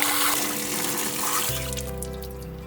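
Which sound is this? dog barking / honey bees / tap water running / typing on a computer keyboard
tap water running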